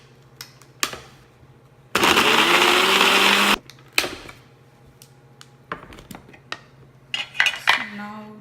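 Tomatoes being stirred in a pan for an Indian tomato rice, with a spoon clinking and scraping against the metal, a loud sustained burst of sizzling and scraping in the middle, and scattered knocks around it.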